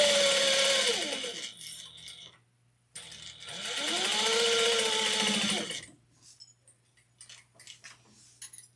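Sewing machine basting a fabric wristlet at a narrow seam allowance, two steady runs of loud motor whirring and needle chatter separated by a short pause, followed by quieter handling clicks.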